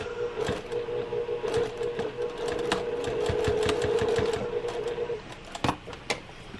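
A sewing machine stitches the fabric of a zippered pocket pouch bag, its motor humming in one continuous run before stopping, surrounded by sharp clicks and handling knocks.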